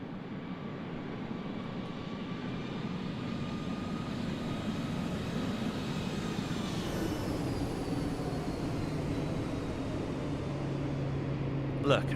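An airliner, a Boeing 737 NG in a flight simulator game, makes a crosswind landing with a continuous engine roar and a slowly falling whine, steady and fairly loud throughout, with a brief thump near the end.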